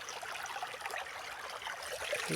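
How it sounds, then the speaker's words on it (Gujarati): Canal water running along a farm channel, a steady close rushing and trickling that holds level throughout with no voices. "ઉપરથી પાણી આવે છે"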